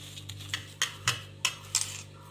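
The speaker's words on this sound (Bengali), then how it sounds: "থালার মধ্যে দিয়ে দিচ্ছি এইভাবে চেপে চেপে থালার মধ্যে বিছিয়ে দেবো" Papaya paneer being pressed and spread on a plate, a series of about six sharp metallic clinks and taps of a spoon against the plate, close and fairly evenly spaced.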